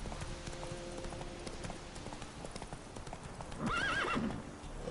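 Horse hooves clip-clopping in the video game Witcher 3, a steady rhythmic trot at moderate distance, followed by a loud whinny near the end.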